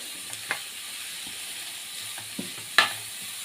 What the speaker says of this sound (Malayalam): സവാള ഇട്ട് കൊടുത്തിട്ടുണ്ട്. അതൊന്ന് നല്ലോണം ഒന്ന് വഴറ്റി ബ്രൗണിഷ് കളറായിട്ട് നമുക്ക് എടുത്തതിന് ശേഷം